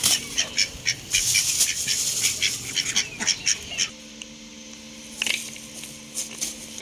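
Ducks quacking and dabbling nearby as they are fed watermelon rinds, with a busy stretch of calls and splashing that drops into a quieter background with occasional louder bursts.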